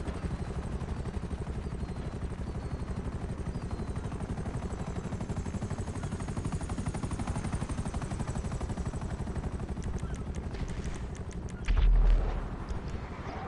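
An Akula helicopter in GTA flies with a continuous, dense rotor drone and rapid rattling weapon fire layered over it, close and loud throughout, with a heavier burst of a missile explosion near the end.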